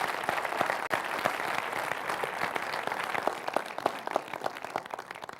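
An audience at a sales presentation applauds in a sustained burst of dense, even clapping that rises and holds, with faint murmuring voices underneath.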